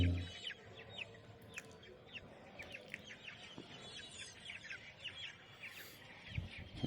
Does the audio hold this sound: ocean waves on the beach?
no